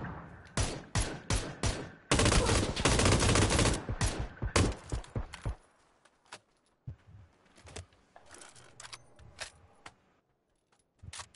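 Rapid bursts of video game gunfire in a team shooter match, dense automatic fire for the first few seconds, then scattered single shots and faint reports trailing off into quieter ambience.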